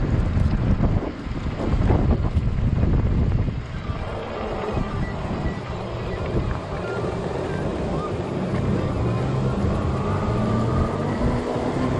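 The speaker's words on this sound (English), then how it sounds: "The wind is wicked." Strong gusty wind buffets the microphone continuously while riding a 20-inch 48V Ecotric fat tire e-bike in 30 mph gusts, a loud broadband roar that surges and eases throughout.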